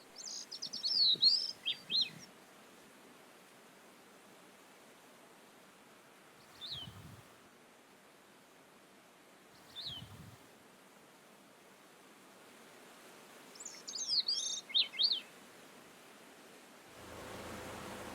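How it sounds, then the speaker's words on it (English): A grey-cheeked thrush in Nome, Alaska, perched on a leaning shack roof, sings short, high, wavering phrases a few times at a distance, separated by long pauses over soft wind or surf noise. "a grey-cheeked thrush"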